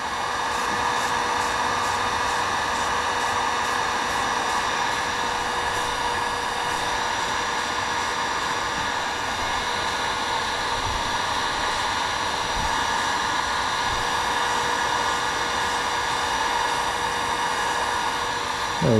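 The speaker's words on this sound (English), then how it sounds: "The heat gun accelerates it a tiny little bit." Heat gun blowing steadily on freshly painted differential pinion flange from a Nissan 350Z/370Z, a continuous loud airy whoosh with a hum that holds unchanged throughout, alone with no talk.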